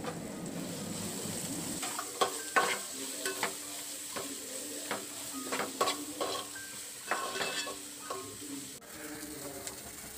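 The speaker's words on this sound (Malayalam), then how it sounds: "അതിലേക്ക് നമ്മൾ എടുത്തു വെച്ചിരിക്കുന്ന സവോളയും വട്ടൽ മുളകും ഒക്കെ ഇട്ട് കൊടുക്കാം. കറിവേപ്പില എല്ലാം കൂടി ഇട്ട് നന്നായിട്ടൊന്ന് ഇളക്കിയെടുക്കാം." Sliced onions, chillies and curry leaves sizzle in a hot pan while a spoon scrapes and stirs them in repeated bursts, clattering against the pan over a steady frying hiss.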